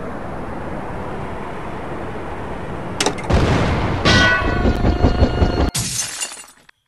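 In a video game, a steady low rumble gives way to several loud, crackling C4 blasts with debris-like shattering, ending in a sharp burst that quickly fades to silence.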